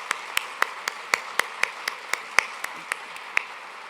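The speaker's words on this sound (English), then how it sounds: "Round of applause, please." An audience at a community talk on sextortion applauds with sparse, evenly spaced claps, fairly faint and roughly four per second, with no voices over them.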